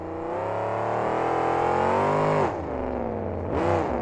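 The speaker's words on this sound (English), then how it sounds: "As Todd stands on this loud pedal, he's going to cross up the mountain." A monster truck's engine revs hard and steadily at a 2007 KORR Monsters event in Detroit, with the pitch falling as the throttle drops near the end before it surges again.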